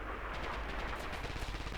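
Rifle fire in a Red Orchestra 2 competitive online match, heard as a dense, continuous mix of overlapping gunshots and battlefield noise throughout, with no single shot standing clear.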